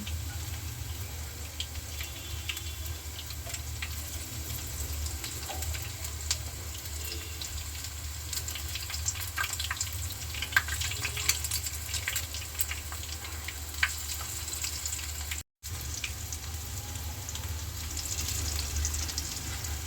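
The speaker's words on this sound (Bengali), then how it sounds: "আমার পাকোড়াগুলি ভাজা হয়ে গিয়েছে" Pakoras made from small sea prawns frying in hot oil, giving a faint, steady sizzle and hiss with no talking.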